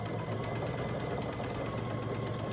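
A sewing machine stitches a second quarter-inch seam along a quilt block at close range, a steady, unbroken mechanical whir and needle patter that stays at an even level throughout.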